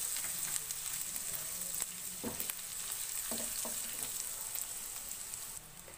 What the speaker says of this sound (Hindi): इसको भी हल्का सा फ्राई करेंगे।